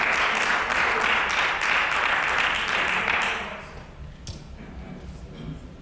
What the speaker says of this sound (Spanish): Y de ese aplauso de afirmación al Señor.